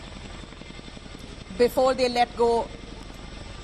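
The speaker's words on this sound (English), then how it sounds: "IAF Chinook helicopter taking off" Steady rotor thrum and engine drone of a large IAF Chinook helicopter taking off, continuous throughout, heard from a distance under a voice speaking briefly in the middle.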